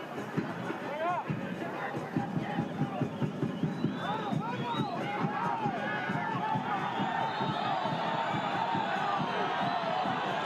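Football crowd in a stadium at a Concacaf Central American Cup match, a steady distant roar of voices with whistles and rising murmurs beneath live commentary.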